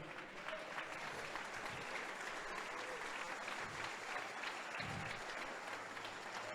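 A standing church congregation claps as an offering to the King during a Spanish-language sermon, a steady, even wash of applause that stays soft and unbroken from start to finish.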